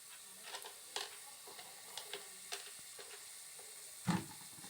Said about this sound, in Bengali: চিকেন পিসগুলোকে ভেজে নেওয়ার পর এবারে তেলে দিয়ে দেব গোটা দারচিনি